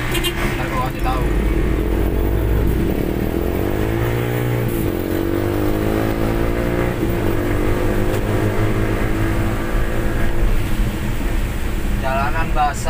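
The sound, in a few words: motorcycles passing on a wet road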